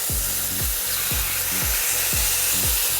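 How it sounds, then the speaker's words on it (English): Tequila-marinated meat sizzles steadily in a hot pan, a close, continuous frying hiss with a few low rhythmic knocks from stirring or moving the pan. "Hear that sizzle?"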